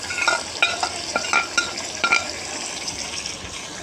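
A spoon scrapes and clinks rhythmically through beef with red chili, coriander and cumin powders, garlic-ginger paste and salt in a pan, over a steady soft sizzle, close and clear.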